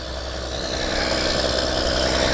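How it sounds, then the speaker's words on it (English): A 9520 tractor engine runs with a steady, loud, rumbling drone heard up close during manuring work, with no talk over it. "This is a 95-20 tractor."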